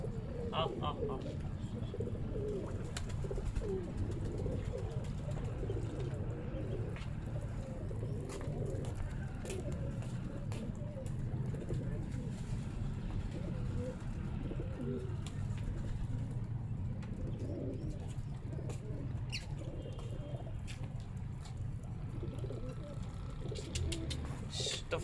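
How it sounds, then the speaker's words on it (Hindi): Pigeons drinking from a water dish at a pigeon loft in Karachi coo low and steadily throughout, close by, with a person talking over them now and then. "सब कबूतर आके इसमें बहुत मज़े से पी रहे हैं।"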